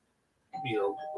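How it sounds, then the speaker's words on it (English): A doorbell chimes once after a short silence, a sustained bright tone ringing out with other household sound mixed in. "And I apologize for the doorbell ring."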